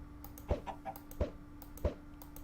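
Chickens in modded Minecraft give several short, soft clucks spaced about every half second to a second, each a brief blip over a faint steady hum.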